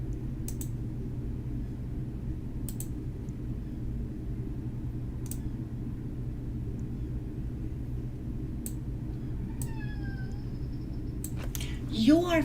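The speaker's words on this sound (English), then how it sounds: "He puts himself in the corner and starts meowing." A cat tucked into a corner lets out a few rising and falling meows near the end, fairly close, over a steady low background hum punctuated by scattered sharp clicks.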